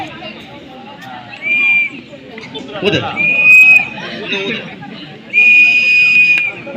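Three sharp, high whistle blasts during a fire safety awareness demonstration, each lasting about half a second to a second, with people chattering and moving nearby in between.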